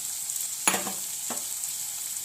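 Onions sautéing in oil in a pan: a steady, faint background sizzle with two short scraping stir strokes of a spoon, close, no speech.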